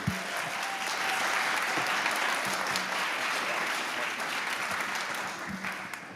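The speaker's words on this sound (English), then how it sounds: "let's clap again for Shane" An audience at a Q&A session applauds a guest, a full, sustained round of clapping that swells and then tapers slightly toward the end.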